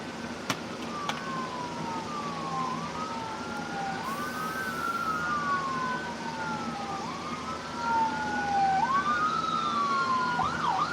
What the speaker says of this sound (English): Well, here comes an ambulance